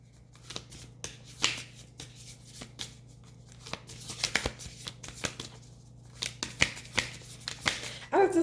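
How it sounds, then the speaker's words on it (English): Tarot cards being shuffled by hand, with soft riffling bursts and light snaps repeating over several seconds against a quiet steady hum, close and moderately faint. "Holy Spirit, give me a couple more cards"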